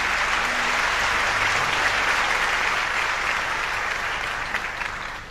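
Steady applause from an audience fills the whole stretch, a dense wash of clapping that holds even and then eases slightly at the end.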